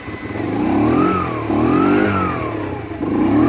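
Yamasaki YM50-RE 2018 50cc motorcycle engine revving up and down in three close, loud swells of rising and falling pitch, with no talking.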